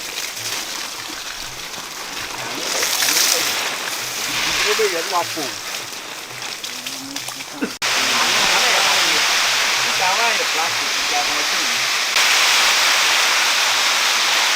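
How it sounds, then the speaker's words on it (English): Water from a mechanized pump feeding a farm facility and nursery rushes in a loud, continuous splashing hiss, growing heavier partway through, with people talking faintly beneath it. "So once they put it on, water goes to the facility and some goes to the nursery for watering."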